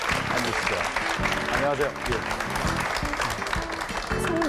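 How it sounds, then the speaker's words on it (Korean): A Korean TV talk show studio audience of church members applauds as a pastor guest is welcomed onto the set. The clapping is dense and steady throughout, with a host's greetings spoken over it. "여느 때보다 박수 소리가 크게 나오길래"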